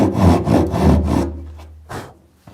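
A handsaw cuts through plywood end grain in several quick back-and-forth rasping strokes, close and dry, then a pause before one last short stroke.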